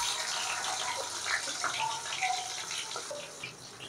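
Sliced onions hit hot oil in a pan and set off a steady, close sizzle with crackling pops, continuous throughout.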